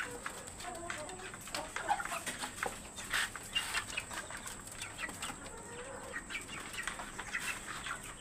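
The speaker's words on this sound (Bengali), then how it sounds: "ওটা হচ্ছে মাল্টি কালারের মোরগ, ফুটি মাল্টি কালারের" Chickens and a multicolored rooster on an urban farm, with scattered clucks and brief wing flaps at moderate distance, and a faint voice in the background.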